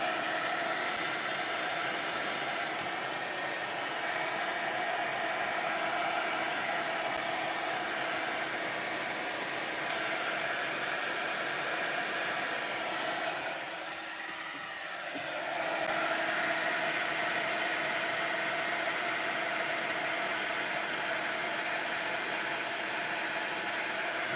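A steady, loud blowing roar of a heat gun running continuously over a glass mat to melt material, with a brief dip in the middle before it resumes; no talking.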